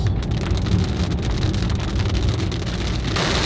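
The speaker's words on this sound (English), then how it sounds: "So it's extra slippery and actively raining this morning." Steady rain falls during a morning drive on slippery, windy roads, a dense continuous wash of drops that stays loud and even throughout with a low road rumble underneath and no talking.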